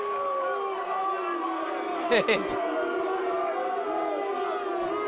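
A football stadium crowd boos after a linesman raises his flag, the sound a low, steady roar heard from a distance beneath a commentator's talk.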